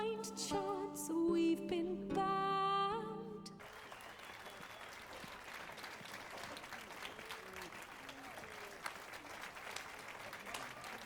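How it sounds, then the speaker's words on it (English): Brief music and chatter give way to a steady wash of muffled, soft clapping, dull and padded like gloved hands, from a character in The Witcher 3 video game. "And now we know it's a lie because he's clapping through gloves."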